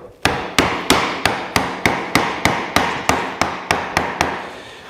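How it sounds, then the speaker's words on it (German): A hammer drives a chisel into wood with about thirteen sharp, evenly spaced blows, close and loud, each ringing briefly before the next. "Stecheisen und Hammer"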